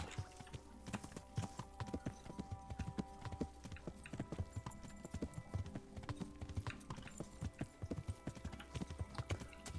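Horse hooves clip-clop in the video game Kingdom Come Deliverance, a quick, steady run of close, quiet thuds with a faint ambient bed beneath.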